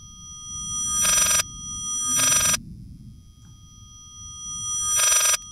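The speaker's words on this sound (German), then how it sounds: "wir lassen mal das Telefon hier kurz klingeln" An old-style telephone rings in the Layers of Fear horror game, with three loud, evenly spaced ring bursts separated by quiet pauses over faint background hum.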